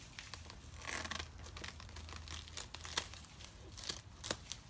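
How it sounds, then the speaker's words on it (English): Paper scissors snip and crunch through the fibrous leaves and stalks of a large banana plant being pruned outdoors, giving a steady run of close crinkling, tearing cuts with no talk. "So here we are again with our paper scissors, and you can see how easily"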